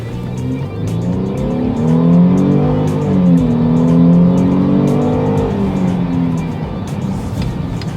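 A 2010 Mercedes-Benz GLK 350 with its nearly 300-horsepower V6 pulls hard from a standstill toward 60 mph, its engine note climbing and dropping through gear changes, loud and steady with no talking.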